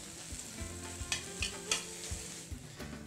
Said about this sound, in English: Next we're gonna add our onions and cook for 1 more minute.